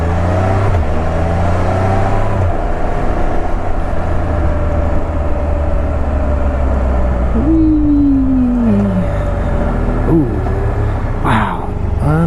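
Can-Am Spyder three-wheel motorcycle cruising on the road, a steady loud engine drone under heavy wind rush, with a couple of brief rising rev sweeps as gears change near the end.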